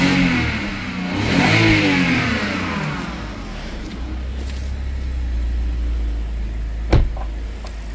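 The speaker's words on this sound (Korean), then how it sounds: "악셀 두 번." BMW 528i with an N52 straight-six engine, a scrapped car, revving in two swells with a rising whine and low rumble, close and steady, ending in a sharp knock.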